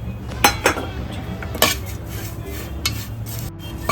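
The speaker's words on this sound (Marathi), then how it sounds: "आता पण त्याच्यात खसखस टाकणार आहे खसखस थोडी भाजून घ्यायची" Poppy seeds dry-roasting in a pan for fenugreek (methi) laddu: clinks and scrapes of a metal spoon stirring against the pan, close up and uneven, with no sizzle and no talking.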